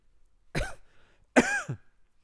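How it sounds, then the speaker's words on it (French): Two separate dry coughs from a speaker at a round-table discussion, close and fairly quiet, with a short pause between them and near silence around them. "je vais tousser de plus en plus souvent"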